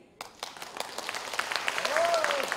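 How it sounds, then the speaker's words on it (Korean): An audience at a comedic stage show breaks into rapid applause that builds from scattered claps to sustained clapping over a couple of seconds, with a voice heard briefly during it. "박수 나오자."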